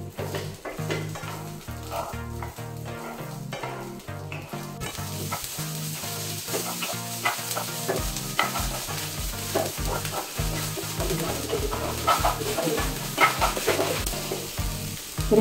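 Toor dal grains roast in oil while being stirred, giving a steady, close sizzle with light scraping throughout, under continuous background music.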